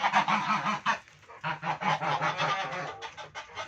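Geese at a home flock honk in repeated short nasal bursts, close and fairly loud, in two quick runs separated by a brief pause, with no talk over them.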